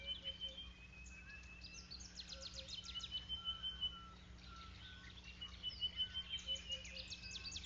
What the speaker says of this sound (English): The bird shrieks a warning, "Shh! Danger on the ground,"